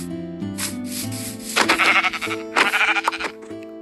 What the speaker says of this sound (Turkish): Ha koyun, koyun, koyun, koyun.